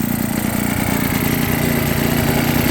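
Small 16-horsepower engine of a 1966 Puch Allstate motorcycle idles steadily and fast after warming up, a continuous close, even putter with no voices.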